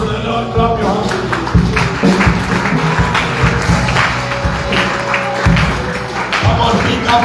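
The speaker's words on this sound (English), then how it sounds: "Clap your hands to the Lord." Hands clapping in a church congregation, a dense steady patter of many people clapping along with thumping beats underneath, loud and continuous throughout.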